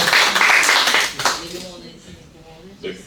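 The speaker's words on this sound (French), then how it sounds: "tous ensemble, on applaudit" French audience clapping together at a closing ceremony, a dense burst of applause that fades after about a second and a half, leaving quieter room noise and a voice.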